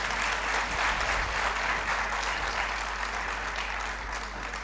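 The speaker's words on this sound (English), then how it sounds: "And once again, a huge round of applause for Nikhil." An audience at an award ceremony claps steadily, a dense, even wash of applause that holds its level throughout with no voices rising above it.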